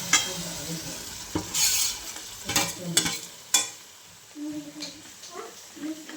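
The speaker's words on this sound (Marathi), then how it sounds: "फोडणी चांगली परतली आता बारीक केलेल्या भोपळा टाकते" Finely chopped pumpkin drops into a sizzling tempering of cumin, garlic, green chilli and turmeric, with loud scraping stirs and bursts of hiss followed by softer frying.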